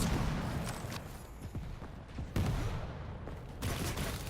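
Tri-Bolt weapon fire in a Quake World Championship match, with dense bursts of explosive weapon blasts and booming impacts layered over continuous loud game noise, several sharp hits standing out.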